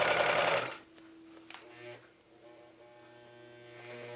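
A sewing machine stitches a stretchy fabric dress in a short, loud burst and then stops, leaving only a quiet electrical hum and a few small clicks.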